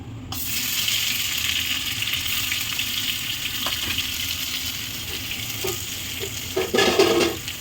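Ginger and cumin paste hitting hot oil in a home kitchen, a continuous close sizzle that swells into a louder burst of spattering near the end.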